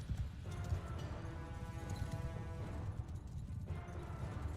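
A dense rumble of many cavalry horses galloping in a video game battle, heavy thudding hoofbeats merging into a continuous roar under a faint tonal game soundtrack.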